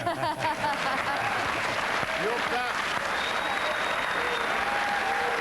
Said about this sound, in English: Your people will clap bloody anything, won't they?